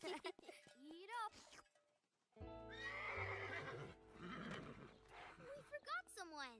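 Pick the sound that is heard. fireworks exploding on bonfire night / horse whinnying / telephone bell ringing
horse whinnying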